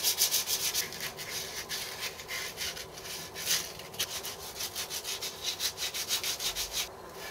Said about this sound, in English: a light sanding and another coat